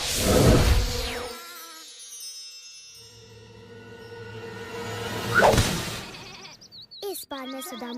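Cartoon sheep bleating in wavering, voiced calls, one at the start and another about five seconds in, with whooshing sweeps and a brief cartoon voice near the end.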